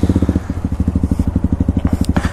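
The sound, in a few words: motorcycle engine revving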